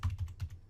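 Clicking keys on a computer keyboard as a student types notes in a classroom, a quick run of several close, crisp keystrokes with a brief pause near the end.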